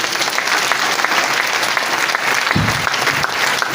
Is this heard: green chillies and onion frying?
no